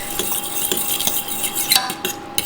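A utensil stirs briskly in a saucepan on the stove, with rapid clinking and scraping against the metal, close and continuous.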